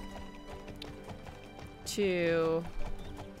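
A horse in the farming game Alicia Online gives a short, clear, whinnying neigh with a few hoof clops around it, heard alone at moderate loudness, and a voice begins a word just before it.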